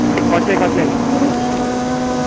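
A motorcycle and a car pass on the Marilaque downhill mountain road, giving a close, steady engine drone with a tonal hum while voices talk over it.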